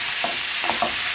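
Snake gourd curry frying in a pan as it gets stirred, a steady hiss of sizzling oil with a few soft scrapes of the spoon, close and loud, no voices.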